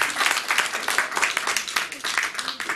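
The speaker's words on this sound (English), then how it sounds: "If you want to clap for Jesus, clap very well." Seminar audience at a Christian marriage teaching claps briskly in a close, dense burst with irregular peaks, with a little talk mixed under the clapping.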